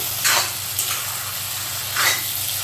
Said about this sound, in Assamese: মাংসখিনি 15 মিনিটমান ভাজিব লাগিব ভালদৰে, পিঁয়াজখিনি সিহঁতৰ লগত মিলাই।